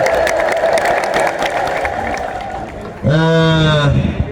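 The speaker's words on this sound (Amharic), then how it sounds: "እስኪ ደግማችሁ እግዚአብሔርን አክብሩት፣ እልል ብላችሁ አመስግኑ" A church congregation at Medhane Alem in Bahir Dar ululates in praise: after a stretch of murmuring crowd noise, a loud burst of high, trilling ululation rises from many voices near the end.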